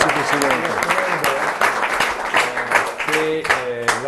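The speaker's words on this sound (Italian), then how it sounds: "Facciamogli un applauso" An audience at an Italian regional sports committee ceremony applauds steadily, with a voice speaking over the clapping throughout.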